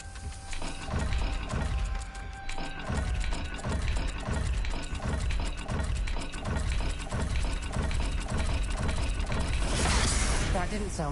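Mechanical dial puzzle in a wizarding video game turning with rapid ratcheting clicks and grinding gear sounds, a steady close rhythmic clatter over a rushing background, swelling into a brighter hiss near the end.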